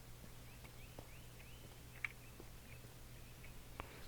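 Minecraft chickens cluck softly in a series of short, faint, high clucks spread across a quiet game ambience, with no speech.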